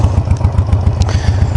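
Stock motorcycle engine running close by, a loud low rhythmic thumping pulse at a steady idle with some metallic clatter on top.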